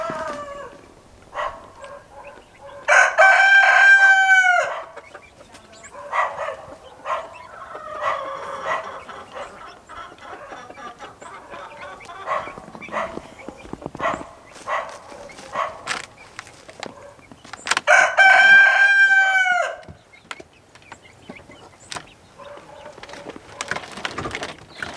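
Chickens cluck and squawk nearby in bursts, including a mother hen, with two louder excited outcries standing out over scattered softer clucks and rustling, in winter snow.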